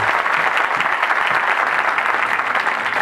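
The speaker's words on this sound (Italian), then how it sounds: "Fatemi sentire un applauso, vediamo un po' come siete." A live-show audience breaks into loud, sustained applause, a dense even wash of many hands clapping close by for the full stretch with no pauses.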